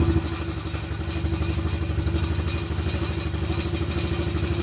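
A faulty quad ATV engine runs with the choke on, a loud close steady rough putter with a rapid even firing rhythm and rattly clatter throughout.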